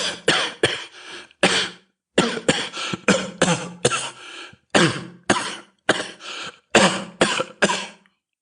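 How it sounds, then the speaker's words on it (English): A man coughs in repeated harsh, wet bursts, fits of two or three hacks broken by short pauses across the whole stretch, close and loud with no talking. "How long have you had that cough?"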